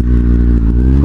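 A white Kawasaki Z750 motorcycle engine runs loud and close as it arrives at a shop. It holds a steady, dense rumble throughout the short moment.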